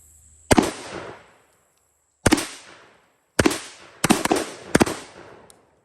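A Panzer M4 shotgun fires high brass trap loads outdoors, about six sharp, loud blasts spaced irregularly, some in quick succession, each ringing out and decaying into quiet.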